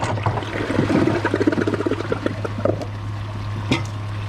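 A Kohler Highline Class 5 toilet loaded with 50 golf balls flushes in a close, gurgling rush of water that swells quickly, then thins to trickling and fades, with one sharp knock near the end.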